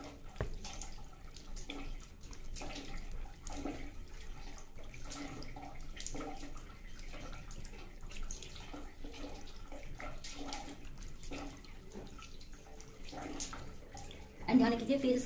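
Water runs steadily from a tap during a face-washing routine, a soft continuous splash at moderate distance with small irregular bursts, ending in a louder clatter near the close.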